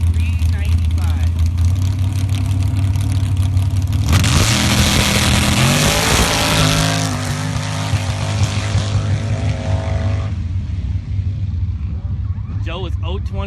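Jeep at the SCSDA sand drags at Soboba, loud engine revving that sweeps up sharply in pitch mid-way and then settles into a steady roar, with an announcer talking over it.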